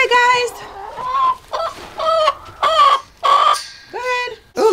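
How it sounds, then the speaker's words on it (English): Backyard homestead chickens clucking and squawking loudly at close range as they are let out, a rapid series of overlapping calls. "We feed our chickens."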